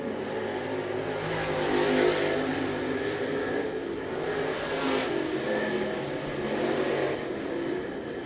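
Race cars lapping the dirt oval at Muskingum County Speedway in Dresden, Ohio, a steady wash of engine roar with rising and falling revs as cars pass, fairly distant and continuous throughout.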